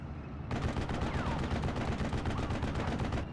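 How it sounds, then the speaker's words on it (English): Tank guns fire in a World War II strategy video game, a Hotchkiss tank engaging an enemy vehicle, with a steady dense barrage of shots and rumbling battle noise throughout. "Hotchkiss is now firing upon it."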